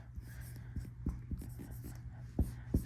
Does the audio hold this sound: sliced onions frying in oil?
no